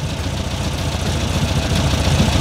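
An air-cooled Volkswagen Beetle engine idles steadily at about 850 rpm during a carburetor adjustment, giving a continuous low, even rumble with a fine rhythmic pulse. It sounds close and loud, with no talking.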